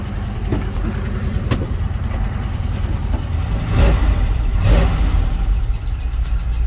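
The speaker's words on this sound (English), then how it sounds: "A little bit of a valve tap to be expected with an older engine." A 1970 Chevy C10/K10 4x4 short-bed farm truck with an older engine runs steadily with a slight valve tap, its deep rumble swelling twice in brief revs.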